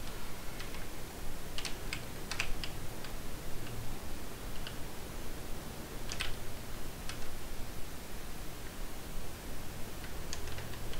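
Computer keyboard keys click and tap in scattered bursts close by during a sim racing session, light irregular typing over a constant low background hum.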